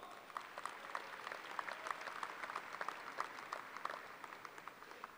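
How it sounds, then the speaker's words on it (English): Applause from the audience at a university commencement ceremony, a steady patter of many hands clapping at moderate distance, fairly faint and even throughout with no voices over it. "Please give them a round of applause."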